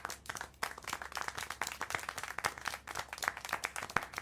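Steady, brisk hand clapping from a character in the video game Syberia: The World Before, a dense run of sharp claps that continues without pause for several seconds at close range.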